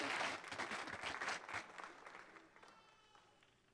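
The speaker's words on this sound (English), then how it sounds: "let's give our Goldie Locke recipients a round of applause" A school awards ceremony crowd gives elementary honorees a round of applause: a loud burst of clapping from many hands that gradually thins and fades out toward the end.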